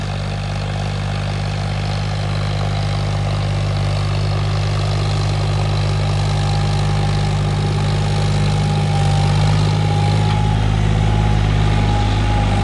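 A John Deere tractor engine runs steadily at close range, a deep, even diesel drone that holds for the whole stretch and builds slightly toward the end, with no voices.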